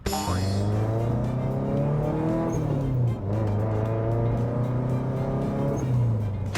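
A loud Subaru GH7 car engine roars steadily nearby, its pitch rising and dipping as it revs, with a brief drop midway, in a garage.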